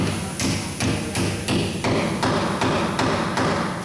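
A wheel balancing weight is hammered onto a tire rim with about ten evenly spaced, close metallic blows, each a sharp tap with a thudding body.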